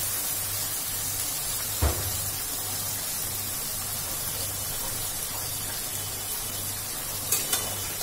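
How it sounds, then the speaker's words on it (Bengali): Four chillies and a piece of ginger fry in a pan, with a steady soft sizzling hiss over a low pulsing hum and a few brief clinks of stirring. "চারটি লঙ্কা দিয়েছিলাম আর এক কুচি আদা দিয়েছিলাম এর মধ্যে এটাকে ভালো করে ভাজবো"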